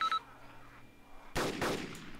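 Gunfire in the video game DayZ: a short beep is followed by a single loud, close burst of shot noise that decays over about a second, with no speech.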